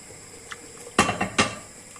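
Metal spoon stirring soup with onions in a pot, giving a few close clinks and scrapes against the pot's side in two short bursts amid quiet kitchen background.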